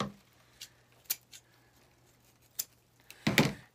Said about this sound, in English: And then I'm going to cut off that little piece.